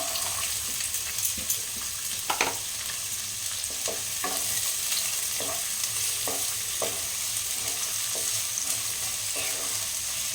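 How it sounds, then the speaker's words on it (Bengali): Chopped onion fries in a pan for an egg dish, with a continuous bright sizzle and regular scraping, clinking stirring strokes spread across the stretch. "একটু লাল করে ভাজতে হবে"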